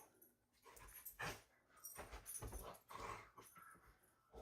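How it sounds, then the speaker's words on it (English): Two excited dogs getting riled up indoors, a burst of yips, whines and short barks tumbling over each other in uneven bursts, fairly close and lively throughout. "The dogs are getting riled up."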